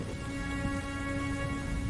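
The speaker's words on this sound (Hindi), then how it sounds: "अरे बेटी, देखो बारिश अच्छी हो गई है।" Steady rain falls in a dense, even hiss that stays constant and fairly close throughout, with a faint tonal hum beneath it.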